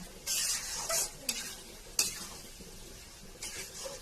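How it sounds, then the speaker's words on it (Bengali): Prawns frying in a pan for a dopeyaja, stirred with a utensil: bursts of scraping and sizzle rise and fall over a low hiss, with a few sharp clinks against the pan. "কিছুক্ষণ নাড়াচাড়া করার পর কষানোর জন্য আমি ঢেকে দিলাম।"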